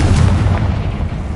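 Spell explosions from Bombarda and Confringo in the video game Hogwarts Legacy, a dense continuous rumble of deep booms and bursts rolling on without pause, loud and close.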